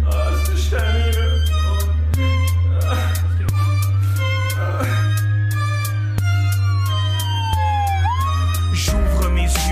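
A wailing emergency siren, called for as an ambulance in a distress scene, sweeps loud and steady over a constant low drone, with sharp pitch glides and repeated abrupt breaks throughout.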